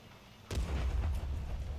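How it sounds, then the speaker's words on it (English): A single heavy artillery shot from a tank in World of Tanks Console booms out with a deep low rumble that rolls on after the blast, loud and close. "Artillery, eh?"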